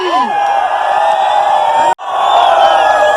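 A festival crowd cheers and whoops loudly for a DJ at Sinhgad Karandak 2020 in India, a dense roar that drops out for an instant before swelling back.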